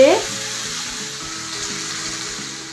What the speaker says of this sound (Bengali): এই হাতে মাখা পুরো উপকরণটাই আমি এই গরম তেলের উপর ছড়িয়ে ছড়িয়ে দিয়ে